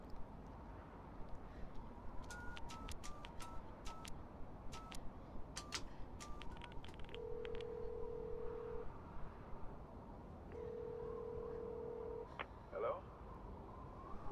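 A telephone call being dialed in the Beyond Two Souls game: a quick run of faint tick-like button presses followed by two sustained ringing tones, quiet and in the background.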